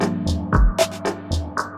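Percussion from drum samples loaded into an Ableton drum rack and triggered by an arpeggiator fires a quick rhythmic pattern of short hits, with a deep thump and bright clicks repeating.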